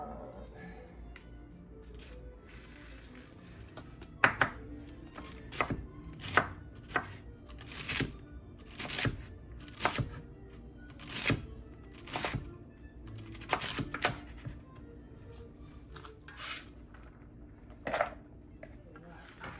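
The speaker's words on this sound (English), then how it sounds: "We're going to chop that up too." Celery is chopped with a knife on a cutting board, giving sharp irregular thwacks at an unhurried pace with short bursts of quick strokes. Faint voices are heard now and then underneath.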